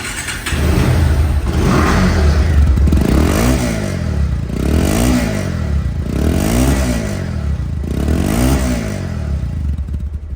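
A second-hand 2019 Bajaj Pulsar DD motorcycle engine is revved hard several times in a row, each rise and fall loud and close, over a steady rumbling idle.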